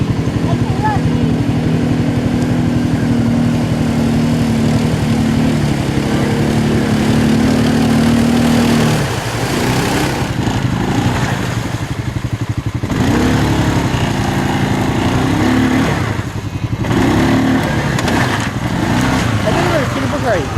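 ATV engines at an ATV club near Ruza, Russia, run continuously, idling and then revving and pulling away nearby as people talk over the motor noise.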